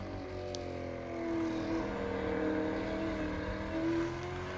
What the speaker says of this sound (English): So there'll be some victory burnouts going on there for sure